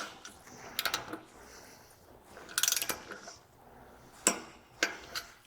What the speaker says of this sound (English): Then we'll tighten the jam nut to 12 foot-pounds.